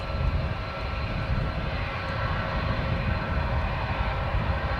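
A jet airliner at Dallas Fort Worth International Airport gives a loud, steady engine roar that stays constant and close throughout, with no voices over it.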